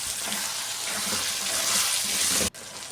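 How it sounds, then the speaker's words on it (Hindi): Tomatoes and green chilies fry in a pan for bitter gourd and chana dal, giving a steady, dense hiss that runs loud and close for two and a half seconds before cutting off abruptly. "फ्राई करने के बाद टमाटर और हरी मिर्च डाल दें, इसे भी अच्छे से फ्राई करें।"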